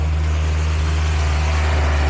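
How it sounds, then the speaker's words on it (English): A Honda Integra engine idles with its throttle body fully covered by a hand, producing a steady, even, low mechanical hum that holds without faltering. "it's actually idling pretty well even with the throttle completely covered with my hand"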